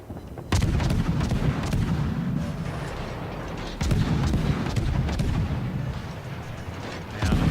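Heavy naval guns boom repeatedly in a warship video game, with thick sustained rumbling blasts firing at the battleship Musashi, loud and close, with two sharp onsets and continuous roaring between them.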